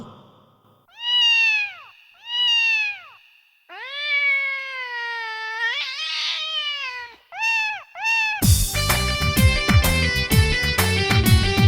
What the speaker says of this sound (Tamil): மியா மியா மியா மியா பூனை குட்டியே